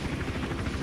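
Helicopter in Hitman Absolution, a steady loud rotor thump and engine drone filling a brief moment with no talk.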